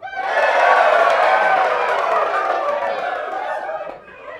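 A throng of spectators cheering as the City of Albuquerque balloon lifts off over Newtown, a loud, sustained crowd roar with whoops that swells early and then fades toward the end.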